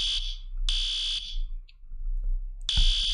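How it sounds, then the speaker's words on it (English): A fire alarm sounds in a Roblox Bloxburg house game, blaring loud high electronic beeps in long repeated bursts with short gaps between them, close and alone. "I don't know why, but the fire alarm's going off."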